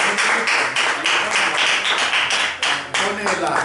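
Church congregation clapping in a steady, rhythmic beat, loud and close, with strong regular claps roughly every third of a second and voices faintly underneath.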